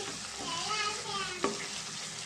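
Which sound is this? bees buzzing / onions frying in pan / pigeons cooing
onions frying in pan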